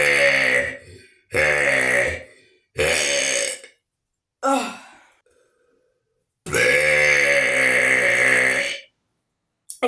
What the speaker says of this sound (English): let's hop into the burps.